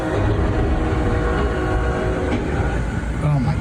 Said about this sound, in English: A massive truck became trapped on railroad tracks in Ohio before a train slammed into it.